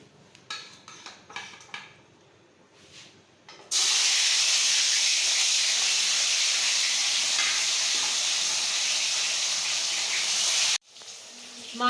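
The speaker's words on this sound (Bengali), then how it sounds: "মাছটা ভেজে নিই।" Fish frying in a pan in a home kitchen: a few clattering handling sounds, then a sudden loud, steady sizzling hiss that holds for about seven seconds before cutting off abruptly.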